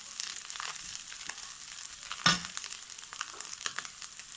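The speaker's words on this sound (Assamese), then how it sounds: "এতিয়া মই ভাজি থোৱা মাছখিনি দি দিছোঁ।" Small lightly fried fish dropped into a sizzling pan, giving a soft, close crackle with scattered pops and one louder clatter midway, heard without talk.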